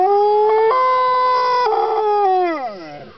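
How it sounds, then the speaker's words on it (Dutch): A dog howling along with a siren: one long, loud, close tonal howl that holds steady, shifts pitch upward, then slides down and fades at the end, with no one talking. "sommige honden die reageren er zo op, die gaan gewoon helemaal meeloeien"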